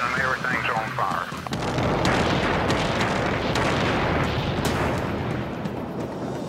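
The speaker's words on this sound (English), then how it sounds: "An earth-shattering explosion in a rocket fuel factory rocks this small desert town." An earth-shattering explosion at a rocket fuel factory in the small desert town of Henderson, Nevada: a loud, sustained roaring blast and rumble that swells after a brief moment and stays heavy throughout.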